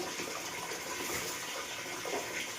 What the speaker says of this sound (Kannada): ಸೊ ನೀರು ಆಲ್ರೆಡಿ ಕುದಿತಾ ಉಂಟು